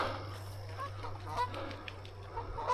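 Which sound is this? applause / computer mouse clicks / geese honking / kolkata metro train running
geese honking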